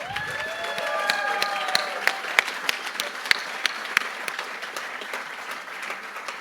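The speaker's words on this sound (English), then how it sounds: "we can give you a quick round of applause" A gala audience at an evening fundraiser in San Diego gives a quick round of applause, a dense crowd of clapping with sharp individual claps standing out and a few faint cheers and whistling tones near the start.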